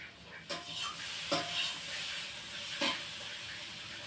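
Potatoes fry in oil in a pan, giving a steady close hiss of sizzling broken by a few brief stirring scrapes, with no talk.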